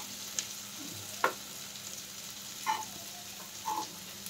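Teasel gourd (kakrol) slices fry quietly in a pan, a faint low sizzle under a few isolated clicks and taps of a utensil.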